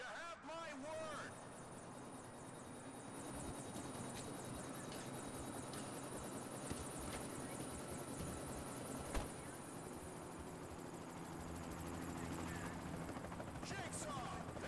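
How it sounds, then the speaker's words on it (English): A helicopter from The Punisher video game arrives, its steady rotor and engine drone filling the scene at constant loudness while voices shout over it. "Chopper's here, Jigsaw!"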